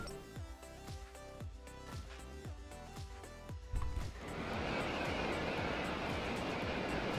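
A helicopter flying in Scrap Mechanic gives a steady rhythmic rotor chop, then swells into a dense, continuous rushing roar, with no voices present.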